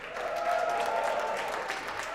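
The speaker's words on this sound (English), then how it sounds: "Can I have a big Northern Roots cheer?" Festival crowd at the Northern Roots Traditional Music Festival applauds and cheers, a steady wash of clapping with voices mixed in, held at an even level for a couple of seconds.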